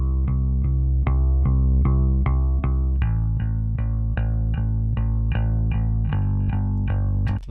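Bass bus run through tape-saturation crush and blended with the other buses in Harrison Mixbus, heard as a loud, steady mix of rhythmic plucked bass notes with sharp repeated attacks and thick harmonic fill throughout.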